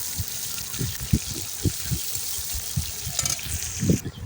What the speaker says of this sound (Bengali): একটু ভাজা হতে লাগবে কিছুক্ষণের জন্যে